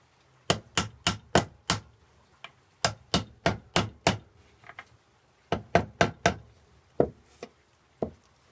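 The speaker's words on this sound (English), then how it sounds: "I'm going to tap these as far as I can down just to get that chamfered section of the pins out as far as I can" A hammer tapping metal pins into a knife handle, sharp, close strikes landing in quick clusters of four or five with short pauses between groups, followed by a few sparser single taps.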